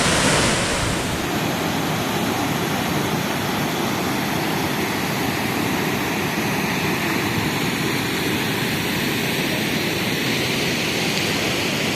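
Rushing river water at the top of Saptakund waterfall near the Ajanta Caves, a steady loud broadband roar that continues unbroken and close throughout.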